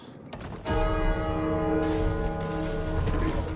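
A large bell in the co-op video game It Takes Two strikes once and rings on with a long, loud, sustained metallic tone that slowly fades, with no talking over it.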